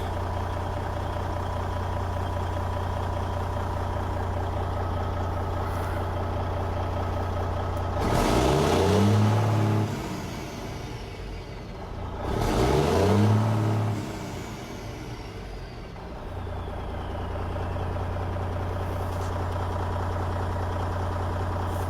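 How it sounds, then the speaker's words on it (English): A Cummins N14 Celect Plus diesel engine idles with a steady, close low rumble, broken by two louder surging bursts midway before it settles back into an even idle. "we'll go ahead and crank it. There, you heard the long crank."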